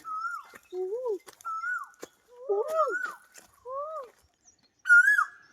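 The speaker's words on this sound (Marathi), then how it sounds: "कोकिळ्याचा आवाज यायलाय" An Asian koel calls repeatedly in woodland near a guava tree, with clear rising whistled notes in a quick series separated by short pauses, fairly close and loud against a quiet background.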